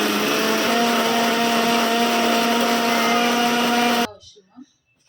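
A mixer grinder whirs loudly and steadily for about four seconds while blending tomatoes and green chilies into a paste, then cuts off abruptly, leaving brief faint kitchen sounds.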